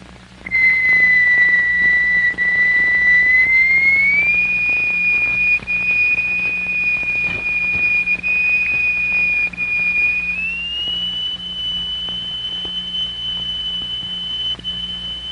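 A steady, loud pure tone drives a vibrating plate to form sound figures. The pitch holds, then steps up twice to higher notes, sustained without talk over a faint low hum.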